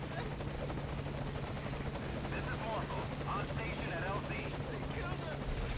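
Helicopter arriving in the Metal Gear Solid V: Ground Zeroes video game, a steady rotor thrum and engine whine holding constant, with someone talking over it.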